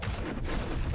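Artillery fire from the Bulge '44 Panzer Campaigns war game: a loud, dense one-second burst of booming gunfire with no voices.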